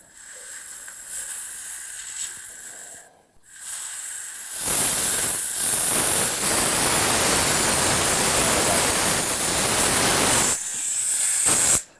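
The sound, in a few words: rusty water spraying from air compressor drain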